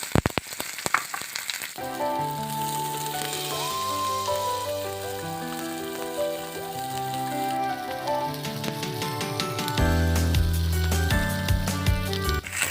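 Onions sizzle in hot oil in a pan with chicken for a chicken dish with blue taro, a steady bright frying hiss running throughout beneath background music, with no talk.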